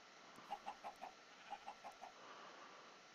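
Chicken in the Minecraft video game clucking in two quick bursts of four short notes each, faint over a soft hiss, with no talking.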